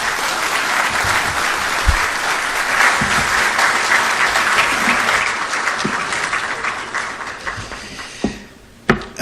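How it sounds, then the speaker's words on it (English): Loud applause from the assembled crowd at the swearing-in of Ghana's Chief Justice, following the President's address: a long, dense burst of clapping that fades out near the end, leaving a few scattered taps and thumps. "I believe we can do another big round of applause for His Excellency the President"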